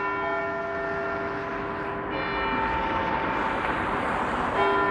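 A church bell in downtown Toronto chimes the 10:45 quarter at night, its sustained ringing tones hanging over low city street rumble, with a fresh strike midway and another near the end.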